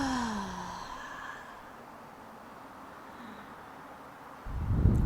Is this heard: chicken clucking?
no